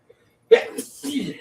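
A single sharp sneeze bursts out close by, followed by a short breathy trailing sound.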